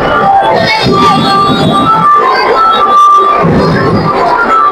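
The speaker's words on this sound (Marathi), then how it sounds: "जेवढ्या लांब असेल तेवढी गर्दी आहे." Crowd at a Ganpati arrival procession in Mumbai, a dense, steady hubbub of many voices and background noise, loud and continuous throughout.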